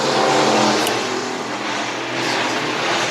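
Race cars run hot laps at Antioch Speedway, a continuous loud engine roar with broad rushing noise that swells and eases slightly as cars pass, no talk heard.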